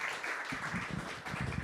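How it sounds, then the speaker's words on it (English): Audience applause at an event on a faith, hope and love tour in Grand Rapids, a steady wash of many hands clapping together, moderately loud and continuous. "Rob, that applause is for you."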